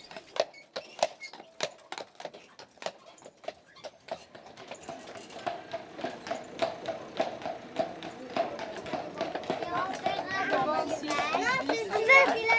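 Horse hooves clip-clop in a steady rhythm on pavement as a horse pulls a carriage through a rural village, growing louder as children's voices and chatter rise around them.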